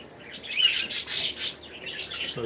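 Pet budgies in a garden chirping and twittering in quick, bright bursts close by, with a soft flutter of wings and no talking.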